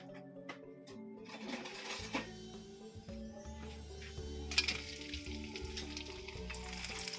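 Krupuk gendar crackers fry in hot oil with a quiet, continuous crackling sizzle, a few louder pops, and steady tonal sounds running underneath.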